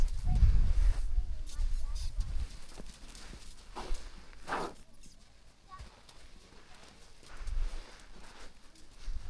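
Hooves of a colt clip-clop in a steady walking rhythm while it is ridden beside other horses, close by, with low thumps under intermittent speech.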